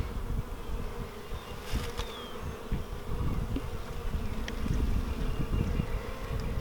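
Honeybees buzz steadily and densely throughout a hive inspection, a close, continuous hum with a few brief louder passes of individual bees near the microphone and no talking.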